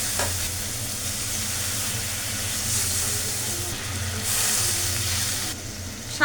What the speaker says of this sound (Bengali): দেখুন মশলা থেকে তেল রিলিজ হয়ে গেছে, আমি হচ্ছে দিয়ে দেবো পরিমাণ মতো জল।